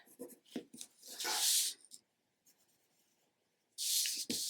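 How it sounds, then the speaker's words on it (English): Pencil or marker strokes drawn along a ruler on a fabric template for a quilted journal cover: quick rubbing scratches in short bursts, a quiet gap, then another dense stroke, close and with no talk. "I'm just going to draw a little bit of that curve, kind of turn my ruler around"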